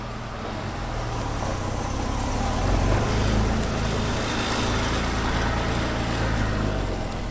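A Porsche 911 with a suspected head gasket fault drives down a street, its engine a steady low rumble with broadband road and wind noise, swelling slightly midway and holding fairly loud throughout with no talk.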